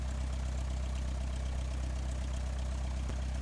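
An Embraer regional jet sits at takeoff in Microsoft Flight Simulator X, its engine giving a steady, droning rumble that holds at an even level, with a deep low hum beneath it.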